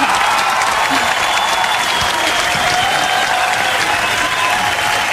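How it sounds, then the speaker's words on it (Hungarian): A crowd claps steadily and loudly for the full stretch, dense continuous applause at a live morning radio roadshow event in Békéscsaba, with no pauses or talk standing out. "Nyomj egy tapsot, ha igen?"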